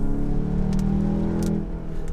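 A 2018 VW Golf GTI MK7 turbo engine, its synthesized five-cylinder-style note droning loudly and steadily under acceleration, close to the microphone, with no talking.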